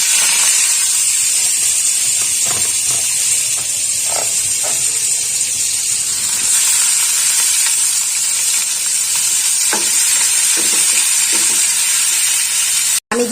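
Chopped onion dropped into smoking-hot oil for Bengali egg curry, a loud, steady sizzle and hiss that carries on throughout, with occasional soft stirring knocks and a sharp click at the very end.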